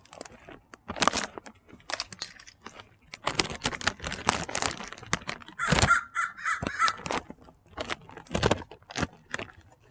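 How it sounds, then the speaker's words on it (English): A crow caws several times, close and loud, while picking up nuts, with scattered crunching and rustling between the calls. "Crow's picking up the nuts."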